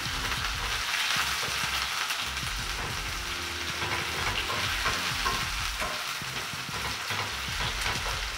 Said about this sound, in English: Do a bit of a stir.